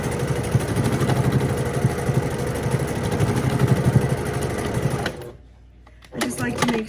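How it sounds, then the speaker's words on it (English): A sewing machine stitching a tutu waistband runs in a fast, steady mechanical whir and rattle, close and loud, then stops abruptly and leaves a brief quiet before some handling noise. "Okay, so I have just sewed my waistband."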